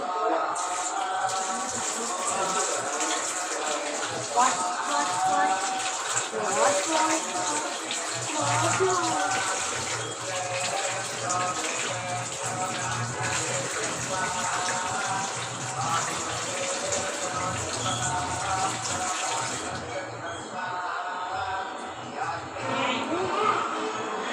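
Running tap water splashes steadily while sticky hands are washed beneath it, a continuous close gush lasting over twenty seconds that eases slightly near the end, with voices speaking intermittently over the flow.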